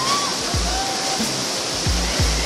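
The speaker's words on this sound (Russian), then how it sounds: "Это называется водопад Кинчха" Kinchkha waterfall in Georgia pours with a loud, constant rushing roar close by, with a few dull low thumps beneath the spray.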